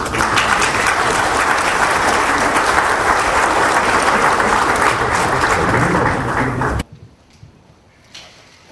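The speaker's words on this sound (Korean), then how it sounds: "큰 박수로 맞아주시오." An audience at a press club debate applauds to welcome a speaker, a loud, dense roar of clapping lasting several seconds before cutting off sharply into near silence with a few faint sounds.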